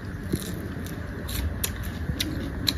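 Crisp deep-fried bean worms bitten close to the mouth, a few sharp crunchy snaps and clicks over quiet room background, with no talk.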